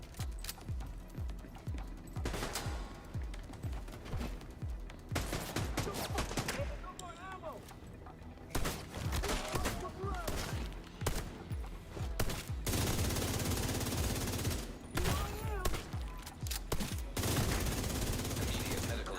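Enemy gunfire in The Division 2, repeated bursts of automatic weapons crackling in clustered volleys with short gaps, some shots close and loud, others more distant, with a voice talking between them.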